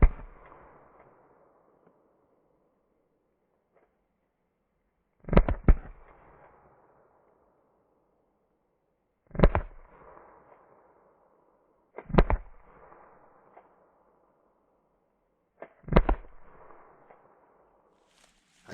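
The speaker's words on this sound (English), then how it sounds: "Let's try out these yellow PVC riot balls and see how hard they hit and penetrate in slow motion." Less-lethal Walther PPQ M2 LE and Umarex T4E TR50 firing yellow PVC riot balls: five sharp, loud shots spaced a few seconds apart, each with a brief ringing tail, with quiet between them.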